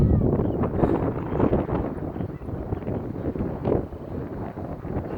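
Wind buffeting a microphone outdoors while an ASW 28 model glider from Tower Hobby / ST Model flies, a constant rough roar without breaks, loud and close.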